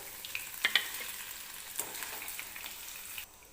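Paneer frying in oil in a kadai, a soft steady sizzle with a few sharp spatters and pops early on, fairly quiet and close, fading abruptly at the end.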